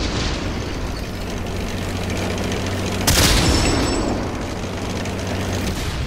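A tank under fire in World of Tanks on PS4, with a loud explosive hit bursting out midway over a continuous rumbling battle background.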